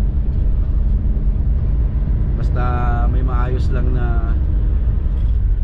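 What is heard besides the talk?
Toyota Altis car driving on expressway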